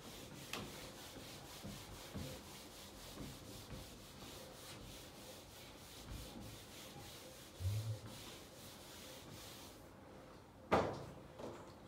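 An eraser rubbing writing off a board during a trigonometry maths lecture, heard as faint, steady back-and-forth scrubbing strokes in a quiet room, ending with a sharp knock.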